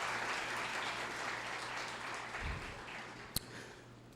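Church congregation applauding, a steady broad wash of clapping held at moderate level throughout, with one sharp louder knock near the end.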